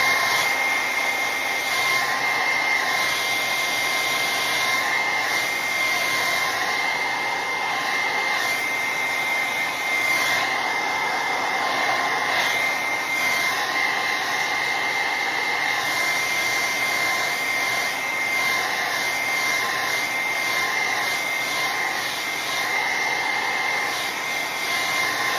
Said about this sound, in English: So now I'm gonna blow dry that